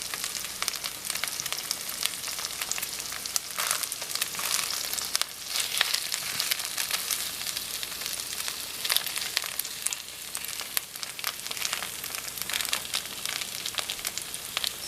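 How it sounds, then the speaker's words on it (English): Cornmeal mush, also called polenta, sizzles steadily as it fries in a pan, a dense continuous crackle that runs close and even throughout, with no voices. "So it has to be fried about 10 minutes on each side till it's brown."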